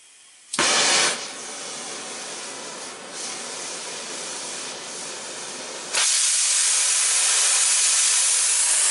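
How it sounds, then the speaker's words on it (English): A cutting torch used to fabricate an exhaust hanger in a shop bursts on with a loud, close hiss, eases into a steady rushing flow, then jumps to a harsher, brighter hiss for the last few seconds. "we're going to be breaking out the torch here"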